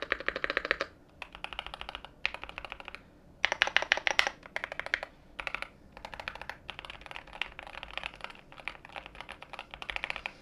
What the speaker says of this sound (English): let's now get close to the keyboard as much as we can and press some keys